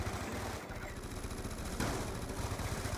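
Rapid gunfire from the Black Ops 2 Zombies game mode, sustained dense bursts of shots running throughout at a steady loud level, with no pauses between volleys.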